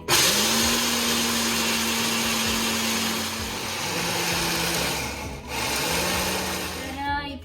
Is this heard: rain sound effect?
no